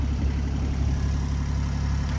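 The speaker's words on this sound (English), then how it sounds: "So anyway, the engine's running." A boat engine idles steadily after finally starting, a low, even rumble with a faint rhythmic throb that holds at constant loudness throughout, with no voices.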